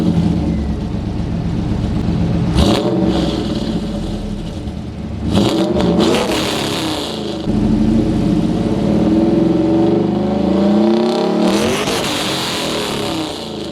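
A 1999 30th Anniversary Trans Am with a MagnaFlow exhaust idles with a deep rumble, then revs up loudly three times, the exhaust roaring and settling back each time.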